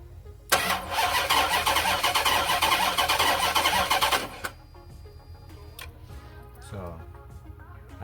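A Dodge Charger SRT8, barely driven and unstarted for over two years, cranks loudly and steadily for about four seconds on a jump without firing, then stops, leaving only quiet clicks and faint mechanical noises.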